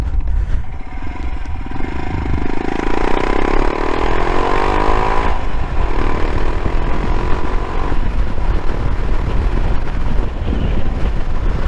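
Motorcycle engine heard while riding, a loud, continuous close-up drone with pitch that rises and falls as the revs change, accompanied by wind rush throughout.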